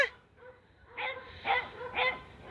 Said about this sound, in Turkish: Şurada çayırda bir tane köpek var